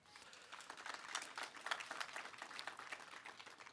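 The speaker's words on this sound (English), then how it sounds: "I want to give a round of applause to all members of City Council that are here with us today" Applause for city council members at a fire station grand opening, a quiet, steady spread of many hands clapping from a small outdoor-sounding crowd, fairly distant.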